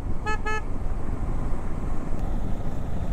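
Two quick honks from a motorcycle horn at a blind turn on a forest road between Chinturu and Maredumilli, sounding early and then giving way to steady wind and road noise.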